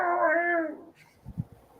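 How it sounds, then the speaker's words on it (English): A single drawn-out meow rings out clearly for under a second, followed by a couple of faint soft thumps. "That was a cat."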